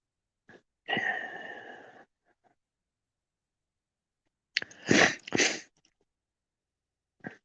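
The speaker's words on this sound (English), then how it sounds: "Sneezed and now my nose is running." A person sneezes, with a sharp nasal burst near the start and a louder, doubled sneeze later, close and fairly quiet, with short sniffs and breaths between long silences.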